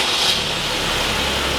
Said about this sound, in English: listen for the sound of that engine starting just like this